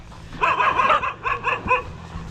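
A dog at a hillside cabin yips and barks in a quick burst of high, excited calls, fairly close, followed by a short pause.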